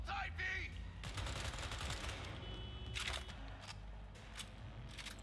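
Gunfire during vehicle combat in Cyberpunk 2077, a dense run of rapid shots at moderate level followed by scattered cracks and a few sharp reports.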